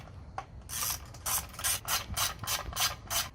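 An 8mm socket on a ratchet tightening the sprocket guard bolts of a Hawk 250 motorcycle, a quick run of close, crisp clicking strokes in steady bursts with no talk.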